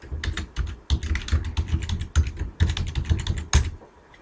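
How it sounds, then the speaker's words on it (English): Rapid typing on a computer keyboard while working in an Excel spreadsheet: a close, steady stream of crisp key clicks in uneven bursts with brief pauses, heard alone. "I'm going to type the named range that we just defined a second ago"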